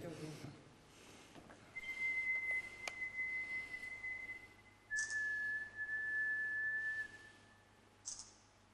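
A person whistles two long, steady single-pitch notes in a quiet room, separated by a short pause, with faint background noise.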